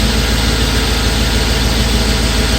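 A Chevy V8 idles steadily and loudly up close, a constant low rumble with even vibration and no voices over it.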